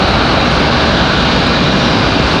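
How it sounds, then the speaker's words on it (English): An airliner coming in on an emergency landing approach from MCO at Raleigh-Durham International Airport, a loud, constant broadband engine roar filling the whole short stretch with no talking. "this one, an emergency landing coming in from MCO"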